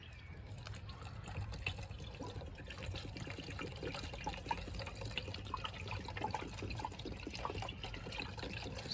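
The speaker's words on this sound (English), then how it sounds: "put some antifreeze and water in, the right mixture" Antifreeze and water pour steadily into the header tank of a Ford Escort Mk3 1.1 Valencia/Kent engine, a continuous close trickling and gurgling liquid sound with no talking.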